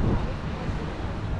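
Near Ushuaia, a heavy gust of wind blasts straight into the microphone, producing a loud, dense low roar with uneven buffeting throughout the short stretch.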